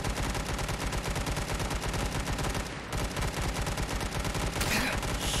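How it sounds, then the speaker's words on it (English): Rapid gunfire from a double barrel shotgun in the video game Fallout 4, a dense continuous barrage of loud shots with a brief dip near the middle before the firing resumes. "double barrel shotgun. I want to use you."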